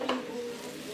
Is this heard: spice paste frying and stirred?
yes